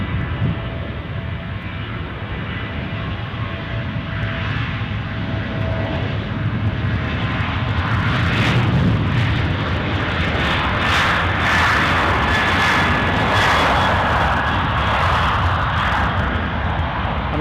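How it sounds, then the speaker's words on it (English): The engines of an Aer Lingus Airbus A320 at Edinburgh Airport make a loud, sustained roar that swells gradually and stays strong throughout, with no talk over it. "Oh, an Aer Lingus A320 I see."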